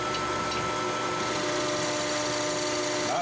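A metal lathe spins at 680 RPM, taking a 50-thousandths-deep cut at a feed of 7 thousandths per revolution. It gives a steady, close mechanical whine with a dense cutting hiss, running continuously throughout with no talking.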